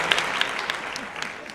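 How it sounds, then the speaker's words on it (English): Applause from a podcast audience or hosts for Joe Rogan, a steady patter of claps spread across the short moment, moderately loud with a slightly muffled, roomy quality. "Let's applaud Joe Rogan."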